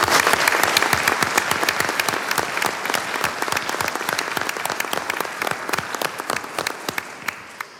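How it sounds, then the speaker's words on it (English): An audience at a school board of education meeting claps steadily for several seconds, a dense patter of many hands at moderate distance that thins slightly toward the end. "So let's give them a round of applause as well."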